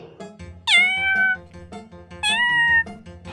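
A cat meows twice, loud and close, each meow drawn out over a soft rhythmic background tune.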